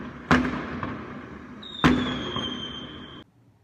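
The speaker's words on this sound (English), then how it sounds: "They're setting up fireworks inside the construction site." Fireworks go off at a construction site: two sharp, loud bangs about one and a half seconds apart, each trailing into a crackling decay, with a thin whistling tone after the second before it cuts off.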